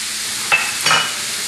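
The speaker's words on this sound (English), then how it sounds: "I'm going to brown up some onions and some garlic" Onions and garlic browning in olive oil give a soft, even hiss, with two quick scraping stirs close by.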